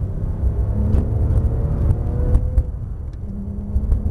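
A Porsche 997 GT3 RS race car engine roars steadily at close range, its low rumble building as it accelerates, with no voices over it.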